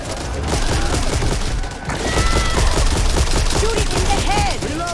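Dense, sustained gunfire from the co-op zombie shooter Back 4 Blood, rapid overlapping shots rattling close and loud almost without pause, with players shouting and talking over the shooting.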